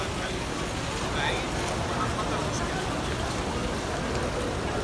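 Steady rain falls in Makkah, an even broadband hiss of drops on hard surfaces that holds constant throughout, with faint traffic rumble and a voice underneath.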